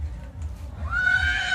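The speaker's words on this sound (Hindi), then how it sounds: "बड़ा सुंदर घोड़ा है ये।" A piebald horse at a livestock fair gives a loud, close whinny that rises and holds after a moment of quieter stirring and low background hum.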